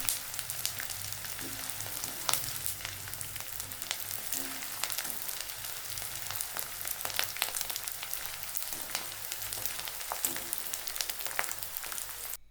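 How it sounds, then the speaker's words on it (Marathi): Edible gum (dink) frying in ghee until it puffs, for urad dal laddoos: a steady, dense sizzle with scattered crackling pops, close and continuous throughout. "पुन्हा चार चमचे तूप टाकून डिंक चांगला फुलेपर्यंत तळून घ्यायचा"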